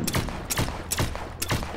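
Turret gunfire in the sci-fi video game The Signal From Tölva comes as four sharp, evenly spaced blasts of moderate loudness over a steady low rumble, with no talking.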